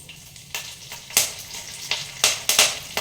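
Cumin, mustard seeds and curry leaves frying in oil for carrot rice give a low steady sizzle, broken by several sharp crackling bursts and stirring scrapes over about three seconds, with no talking.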